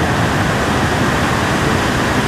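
A muddy river in flood, the Sardu Khardu, rushing with a steady, loud, broadband roar of churning water, continuous and close with no voices.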